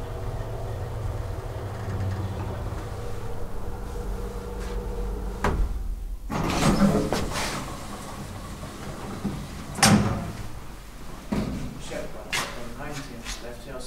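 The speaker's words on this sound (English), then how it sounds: "Let the doors close." Doors of a 1991 DEVE holeless hydraulic elevator in Skellefteå sliding shut, with a low hum, a sharp bang, then several rattling clunks and knocks as the doors settle, heard close up.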